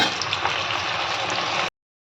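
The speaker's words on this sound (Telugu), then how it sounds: "అలాగే మిగిలిన పెసలను కూడా ఫ్రై చేసేసుకుందాం." Moong dal frying in hot oil, a steady dense sizzle and bubbling hiss that runs close and even for a moment, then cuts off abruptly.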